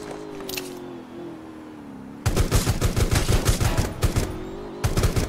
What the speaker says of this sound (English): I think this was a pistol fight, right?